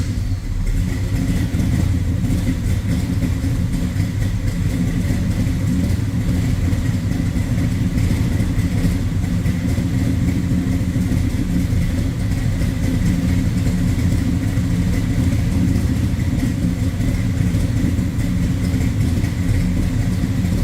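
A 1970 Plymouth Roadrunner under way, its engine a loud, steady low drone with road rumble that holds constant from start to finish.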